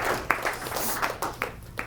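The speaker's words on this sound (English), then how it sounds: "Round of applause. Congratulations." Audience applause at a medical rounds lecture, a dense patter of many hands clapping with sharper individual claps standing out, steady and moderately loud for about two seconds.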